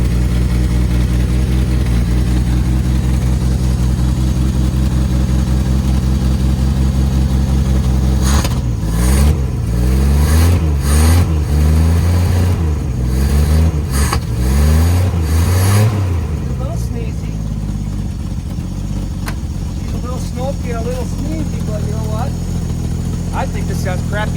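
An old 1956 Chevy car engine idles steadily after a cold winter, with several revs rising and falling in the middle before it settles back to a smooth, loud idle; a voice speaks at times over it.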